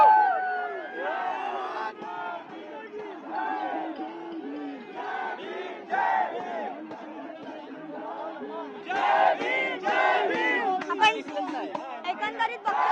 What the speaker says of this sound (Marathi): आझादीच्या घोषणा ज्या आहेत त्या इथे दिल्या जातात